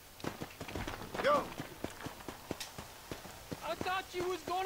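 Horse hooves clip-clopping in the video game Red Dead Redemption, irregular hoof strikes at a walking-to-trotting pace under players chatting and a whinny.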